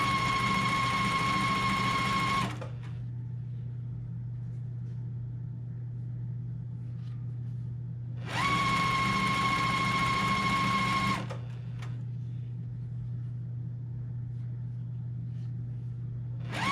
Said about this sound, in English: we're just going to stitch along that long side 1/4 inch